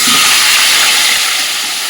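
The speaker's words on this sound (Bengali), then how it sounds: "এই দেখো কড়াই তেল গরম হয়ে গেছে এবার চিকেন আলু সমস্ত যে মেখে রেখেছি সেটা দিয়ে দেবো" Chicken and potatoes hit hot oil in a kadai, giving a loud, close, continuous hissing sizzle that barely eases over two seconds.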